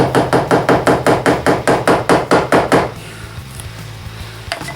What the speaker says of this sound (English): a dead blow hammer, I think, because it sits there pretty damn tight. I'm giving it a bit of a tappy tap action.